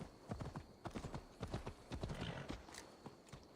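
Horse hooves clip-clopping at a run in the video game Assassin's Creed Valhalla, rapid uneven beats close by, with a brief whinny-like sound and game ambience underneath.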